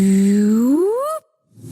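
Advert sound effect for electric Volkswagen cars powering up: a loud, smooth electronic tone that holds low and then sweeps upward over about a second before cutting off sharply.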